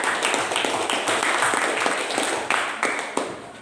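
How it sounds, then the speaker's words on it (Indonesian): A classroom audience claps steadily, dense and continuous applause filling the whole stretch with a few sharper individual claps standing out. "Silakan tepuk tangan untuk Pelani."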